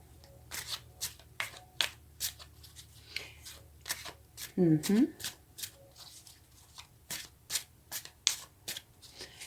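Tarot cards are shuffled close up, a rapid series of crisp riffling snaps and slides, with a voice speaking briefly in the middle.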